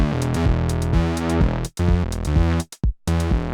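Synth bassline played with an extreme 75% groove quantize swing at around 126 BPM, a heavily lopsided bouncing pattern of loud, sustained bass notes with brief gaps and dropouts, alone without voices.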